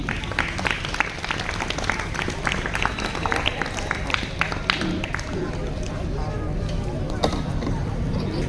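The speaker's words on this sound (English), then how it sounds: "Let's show some love with a big round of applause." Audience applause at a school Republic Day function, a crowd clapping steadily and densely for several seconds with scattered sharper claps and background murmur throughout.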